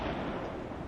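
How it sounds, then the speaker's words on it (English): Gunfire in the video game Lovecraft's Dagon: a continuous, dense, rumbling barrage of low booming shots that holds steady at a moderate level without a break. "Okay, that's gunfire."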